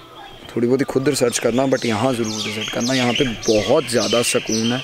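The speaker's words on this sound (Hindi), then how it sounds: "यहाँ पीछे चिड़ियों की आवाज़ आ रही होगी आपको" Birds chirp and tweet in the background at a temple while a person talks loudly close up, the calls partly masked by the speech.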